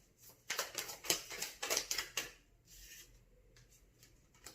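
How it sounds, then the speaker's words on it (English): Tarot cards are riffled and shuffled close up in a quick run of crisp flicking and snapping bursts, followed by quieter card handling with no talking. "There's a quick shuffle here."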